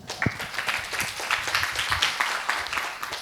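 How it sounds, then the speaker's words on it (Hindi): An audience at a multi-day seminar at a dharamshala in Raipur breaks into sustained clapping, a dense, steady patter of many hands with a few louder individual claps. "तालियां हो जाए।"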